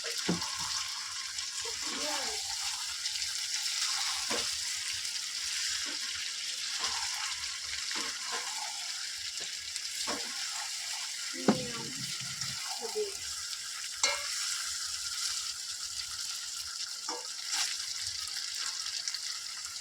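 Chicken cooks in a pan at home, giving a steady frying hiss with occasional sharp clinks and stirring knocks, and faint voices underneath.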